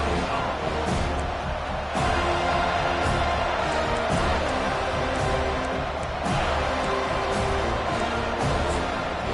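A football stadium crowd roars and cheers at a game, a dense continuous wash of voices with periodic louder swells and sharp bursts, heard at distance without commentary over it.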